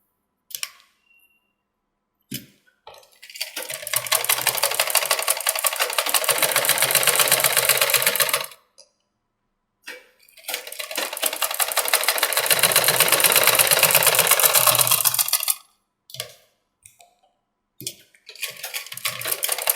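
A sewing machine stitching a princess cut blouse runs in two long, steady bursts of rapid needle clatter, separated by short pauses and a few brief handling clicks, close by with no talking.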